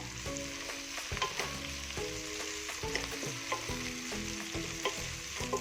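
Green chillies and curry leaves sautéing in a pan for a clam curry: a steady close sizzle with regular spatula scrapes and stirs repeating every second or so, no voices.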